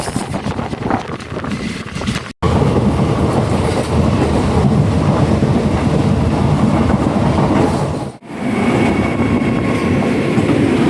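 Loud, steady rumble and rattle of a passenger train running on rails, heard from inside the carriage. The noise fills the whole clip, broken only by two brief dropouts.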